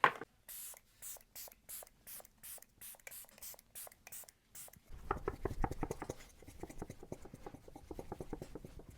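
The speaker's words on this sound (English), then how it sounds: "Let's put on some of the setting spray." Pat McGrath mattifying setting spray misted from a pump bottle in about ten quick, evenly spaced spritzes, close and crisp, followed by soft rubbing and patting sounds.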